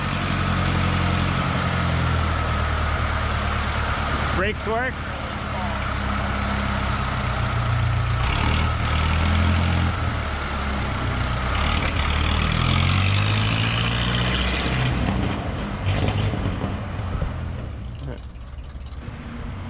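A 1923 REO Speedwagon truck drives along, its old engine rumbling low and steady with rising and falling revs. Someone speaks briefly over the engine noise.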